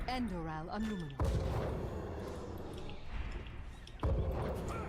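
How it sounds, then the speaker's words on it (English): Cannon fire in the Heroes of the Storm video game lands as two heavy booming impacts amid busy game noise, with a voice briefly heard at the start. "I'm going to go take some cannon fire here"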